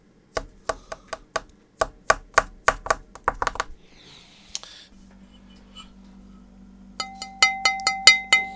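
A series of sharp wooden knocks on a Rega Planar 6 turntable plinth in a steady rhythm, close and fairly loud, followed by a low hum and a quicker run of bright taps.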